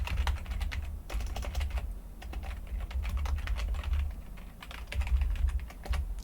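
Someone types on a computer keyboard while working in 3D rigging software. Quick, irregular key clicks run steadily and close by, with no talk.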